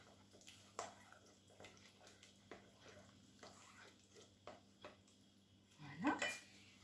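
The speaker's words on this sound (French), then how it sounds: "Alors je vais mettre l'oignon, mélanger un petit peu." Onion being stirred in a pan, heard as faint scrapes and light knocks of a utensil against the cookware at a quiet, close level, with a louder clatter near the end.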